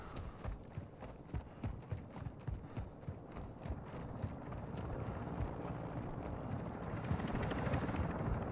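A helicopter lifting off in the multiplayer shooter Call of Duty: Warzone 2.0, its rotor thumping in a steady rapid rhythm that swells into a denser, louder roar toward the end, with no talk.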